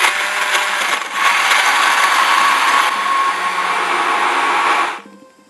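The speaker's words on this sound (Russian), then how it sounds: "Продолжаю взбивать" Ingredients being whisked in a mug, a steady loud whirring that runs without pause for about five seconds, then fades and cuts off near the end, with no talking.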